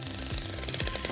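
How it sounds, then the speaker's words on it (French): A jackhammer breaks up a very thick concrete slab, roughly 40 to 50 cm deep, during a home renovation, hammering in a loud, continuous rapid rattle close by with no one speaking. "On va donc la démolir au marteau-piqueur."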